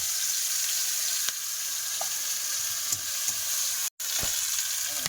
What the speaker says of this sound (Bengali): এখন পেঁয়াজ কুচি আর আদা থেকে দিয়ে দেবো